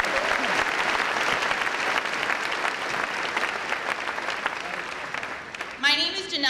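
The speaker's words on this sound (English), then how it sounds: "another round of applause" Sustained applause from a large audience at the Bay City Western High School commencement ceremony in June 2015 fills the space, steady and dense throughout, with a voice briefly cutting in near the end.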